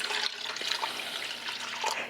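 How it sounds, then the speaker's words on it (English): Warm water pours steadily into a bowl for baking buns, a close, continuous splashing trickle with no talk. "I'm pouring my water, warm water,"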